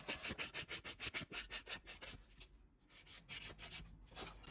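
A file rasping acrygel off a fingernail in quick rhythmic strokes, about a dozen close, crisp scrapes with a brief pause partway through, with no talking.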